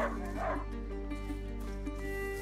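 Hunting dog barking and yipping in the stealth video game A Plague Tale: Innocence, several short yelps and whimpers over a steady droning game soundtrack, moderately loud throughout.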